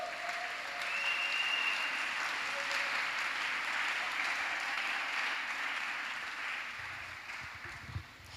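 A church congregation applauding, a sustained wash of many hands clapping that fills the space evenly for several seconds, then eases off slightly at the end, with a faint voice briefly audible.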